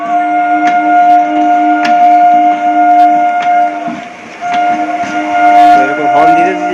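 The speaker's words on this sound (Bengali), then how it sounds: "এরকম হর্ন দিতে দিতে যাচ্ছে" A local train at Sonarpur station during a blockade sounds its horn in loud, sustained tonal blasts with repeated short bursts, close by over station noise and a voice speaking.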